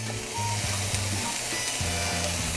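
Sautéed vegetables and chicken fajita sizzling over a medium flame, a steady close frying hiss with scattered crackles, plus a low tonal hum running underneath.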